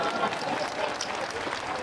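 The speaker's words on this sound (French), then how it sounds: "Mais je croyais que vous allez applaudir pour nous" Crowd at a political speech by the president in Dogbo gives a short burst of dense, even applause and noise, fairly loud and steady throughout.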